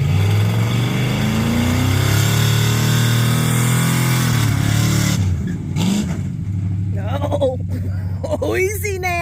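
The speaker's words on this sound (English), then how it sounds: "But it's still going to do burnouts." A Chevy truck with a blown head gasket revs hard while doing burnouts, its engine note rising and falling loudly up close before easing off as people talk and shout nearby.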